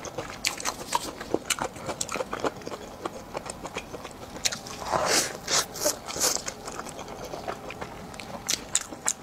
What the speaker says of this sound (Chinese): 这个梅干菜的好好吃